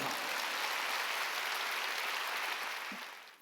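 A church congregation at a Wednesday worship service applauds in a dense, steady wash of clapping that fills the room evenly before tapering off at the end.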